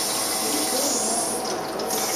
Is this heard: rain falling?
no